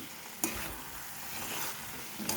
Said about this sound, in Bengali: এভাবে আমি কিছুক্ষণ কষিয়ে নেব ফুলকপির সাথে